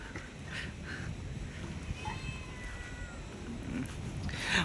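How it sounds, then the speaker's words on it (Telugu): Cats around a camp mess hall give a few faint, drawn-out meows over a steady outdoor background hiss. "ఇవన్నీ పిల్లులు."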